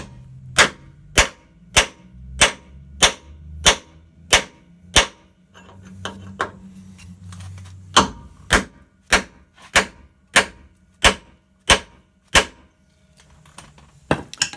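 An air chisel hammering out frame rivets: sharp, loud, evenly spaced metallic bangs in two long bursts separated by a brief lull of lighter knocking, each impact crisp and close.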